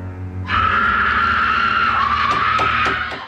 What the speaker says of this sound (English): What a masculine scream.